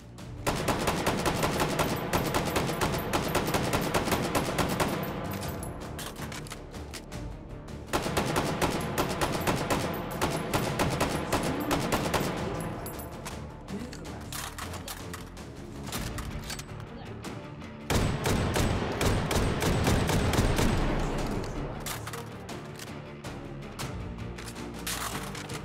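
Gunfire in the VR shooter Hot Dogs, Horseshoes & Hand Grenades on an HTC Vive, with dense rapid bursts of automatic fire in loud sustained volleys broken by short pauses, close and punchy throughout.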